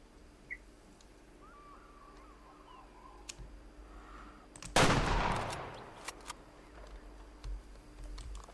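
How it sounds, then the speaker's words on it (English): A single sharp rifle shot rings out in the Way of the Hunter hunting game, standing out loud against a quiet outdoor ambience with faint distant bird calls and scattered small clicks. "And that was a decent shot."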